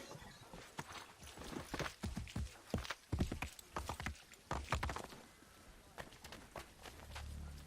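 A horse clip-clops along in the Assassin's Creed 3 video game, its hooves producing a quick, uneven run of sharp knocks that fade out near the end. The sound is faint overall.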